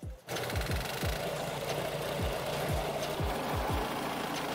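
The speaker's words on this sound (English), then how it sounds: "This machine with a 14 horsepower diesel engine is perfect for chopping firewood." A firewood cutting machine powered by a 14 horsepower diesel engine runs steadily with a loud continuous drone, punctuated by irregular heavy thumps and knocks as it works.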